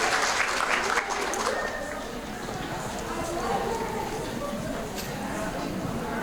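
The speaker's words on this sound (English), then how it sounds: "Let's give them a round of applause" Audience at a town hall panel on brain health applauding, a steady wash of clapping from a crowd that stays fairly even, with speech mixed in.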